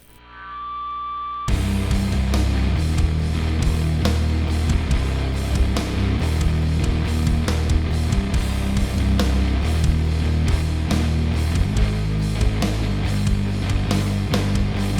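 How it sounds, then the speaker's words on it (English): A heavy shoegaze and nu metal track with dense distorted guitars and pounding drums. It enters after a brief quiet swell and runs loud and wall-like throughout, with no vocals or talk. "I'm going to be showing you the exact methods that are used to make super heavy shoegaze tracks"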